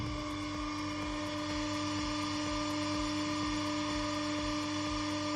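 An electric motor wired in delta connection runs steadily, a constant tonal hum with a faint rhythmic pulsing, fairly quiet and alone without speech.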